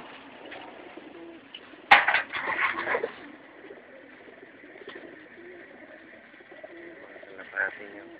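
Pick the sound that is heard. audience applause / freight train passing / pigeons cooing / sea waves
pigeons cooing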